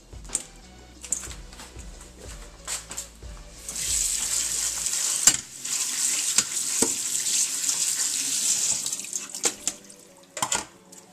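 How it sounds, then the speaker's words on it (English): Kitchen items being washed under a running tap, a steady hissing water stream starting partway through with clinks and knocks of handled things, close and moderately loud. "Take your things, get them in a nice container to wash them. Go wash your stuff."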